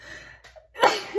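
A single short sneeze bursts out close and sharp after a faint breathy lead-in during an interrupted talk.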